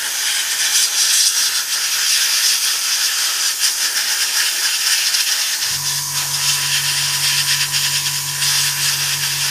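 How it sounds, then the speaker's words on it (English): A steady, loud hiss of spray paint covers the instrument panel of a Trumpeter 1/32 AV-8B Harrier model kit, with a low mechanical hum joining partway through. "So we're just going to spray all of this."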